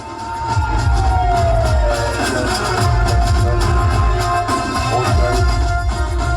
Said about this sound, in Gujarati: તાળીઓના ગડગડાટથી વધાવી લઈશું